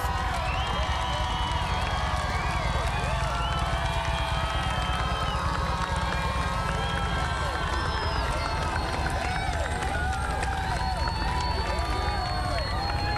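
A street crowd at West 71st and Camden cheers and shouts continuously as a freed woman returns home, a dense, loud outdoor roar with whistles, voices and clapping blended together.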